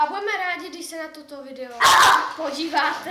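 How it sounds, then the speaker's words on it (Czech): A pet dog in a house gives a short burst of loud barks near the middle, cutting across a person talking in Czech. More speech follows the barking. "Omlouváme se, to byl Pes. můj pes."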